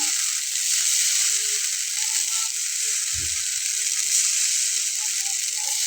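Rice flour batter flicked by hand onto a hot pan for chita pitha sets off a steady, loud hiss of sizzling, with a short low thump partway through and faint clicks underneath.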